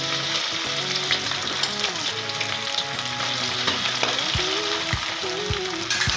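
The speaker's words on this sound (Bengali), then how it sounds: "এখন গ্রেট করা সুজি ভেজে নেব।" Grated semolina crackles and sizzles as it fries in a pan, a continuous close hiss with stirring noises and faint tonal rattles. No talking is heard.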